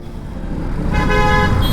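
Car horns toot on a busy road amid a steady hum of passing traffic, with a sustained honk cutting in loudly over the engine noise near the end.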